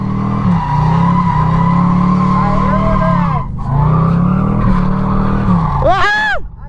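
Camaro convertible drifting with no handbrake, tires squealing loudly in long sustained skids with a roaring engine close by, a brief pause, then another skid ending in sharp chirping squeals.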